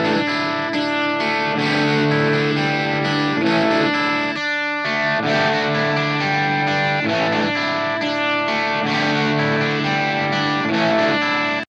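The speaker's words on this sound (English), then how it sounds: "This time I'll use my Vox AC15 going into the greenback in my Vox 412 cab" Electric guitar played through a Vox AC15 amp into a Vox 412 cab with greenback speakers, loud and continuous with a gritty, driven tone and sustained chords, with one brief break mid-phrase.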